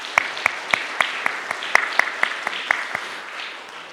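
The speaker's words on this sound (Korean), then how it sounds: "위로와 격려의 박수를 함께 드리겠습니다." A church congregation claps in a short, slow, evenly spaced run of about a dozen distinct claps, fading out at the end during a Sunday worship service.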